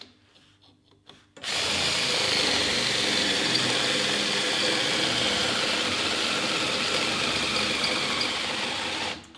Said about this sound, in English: And we are going to use electric drill.